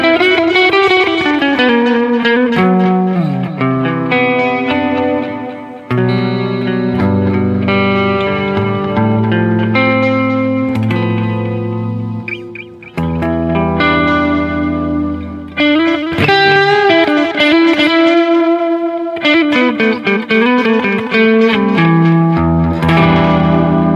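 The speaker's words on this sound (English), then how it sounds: "So this is default setting, RE201 Echo." Roland RE-201 Space Echo plugin on its default echo preset, a loud sustained melodic instrument line with repeating tape-style echoes and warm washy trails, played alone with no talking.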